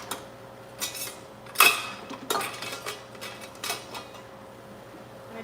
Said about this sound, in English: I just have a spatula and just want to rub it with the Dijon.